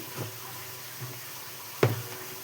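Water is poured over pasta in a strainer, a soft steady hiss of flowing water close by. A brief louder splash comes near the end.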